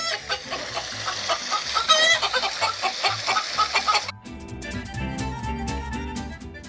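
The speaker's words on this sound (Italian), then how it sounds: "Il pollaio è un luogo molto rumoroso e affollato." Hens cluck and a rooster calls in a crowded, noisy chicken coop. The squawks are dense and overlapping, and partway through the sound shifts to a rhythmic, busier texture.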